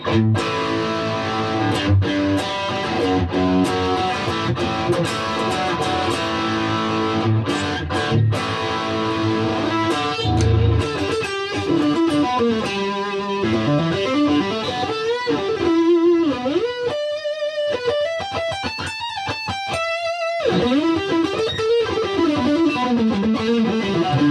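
Electric guitar through a Xotic BB Preamp AT overdrive pedal, volume at 3 and gain at 9, playing chords and melodic lines, gritty and sustained, loud and up close with no talking.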